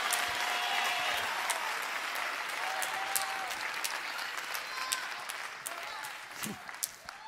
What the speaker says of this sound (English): somebody clap your hands in the balcony